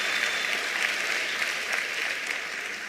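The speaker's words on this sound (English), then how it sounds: "Let's give MTN a big hand of applause." A large hall audience at a national exam results announcement gives a big hand for a sponsoring company, producing a dense, steady roar of clapping that fades slightly toward the end.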